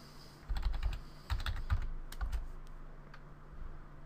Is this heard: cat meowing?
no